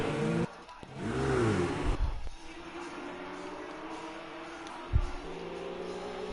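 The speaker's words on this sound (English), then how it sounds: "I'm in the R Ferry Motorsports Ferrari." A Ferrari race car in a racing video game accelerates off the grid, engine revving up in rising sweeps. It then settles into a steady mid-pitched drone with a brief sharp burst near the end.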